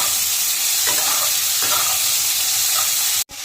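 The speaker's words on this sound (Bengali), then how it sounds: "ভালো করে লাল লাল করে ভেজে নেব আলুটা।" Potatoes with cumin and a little salt fry in hot oil with a steady, close sizzle. A couple of stirring scrapes break through, and a brief clunk comes near the end.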